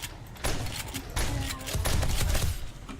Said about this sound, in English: I still hear shotguns and SMGs firing at them as well.